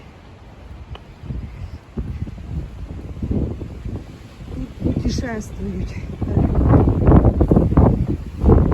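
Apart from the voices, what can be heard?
wind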